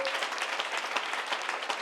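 A church congregation at a sermon applauds loudly in a dense, continuous wash of many hands clapping at once. It is fairly close and steady, and some faint voices mix in.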